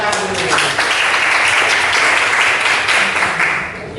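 A classroom of students claps together on cue after a religious lesson, a dense, steady burst of many hands filling the room for about four seconds.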